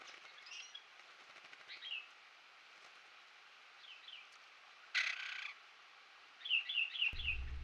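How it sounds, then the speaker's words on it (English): Yellow-bellied warblers at a rocky pool give short, high chirping calls in scattered bursts, with a brief splash-like burst of wing flapping midway and a low thump near the end, all fairly faint against quiet surroundings. "And a typically late bath for the yellow-bellied warblers."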